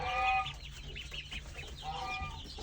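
Chickens cluck in a pen, with a couple of close, loud squawking calls at the start and again near the end and softer clucking between them over a low background hum.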